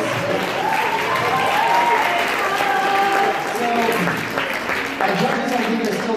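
Sustained audience applause for contestants at an anime convention wig styling competition, loud dense clapping with voices and chatter running underneath throughout.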